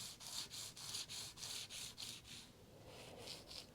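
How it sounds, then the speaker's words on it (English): Micro mesh abrasive is rubbed along a guitar fret on a PRS Swamp Ash Special neck in quick, even back-and-forth strokes. The strokes sound faint and close, with a soft scratchy texture and a rhythm of about two per second. "we're just going to polish this all the way down"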